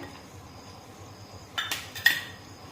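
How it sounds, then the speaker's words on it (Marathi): Cashew and almond slices tipped into semolina in a pan, a quiet kitchen hum broken near the end by two brief metallic clinks of a utensil against the pan. "आता यामध्ये काजू आणि बदामाचे काप टाकूया"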